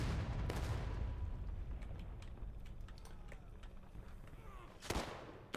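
Gunfire in an online multiplayer battle game set in the Civil War era against Union troops, quiet distant volleys and rumbling shots with sharper cracks near the end, partly under faint keyboard clicks.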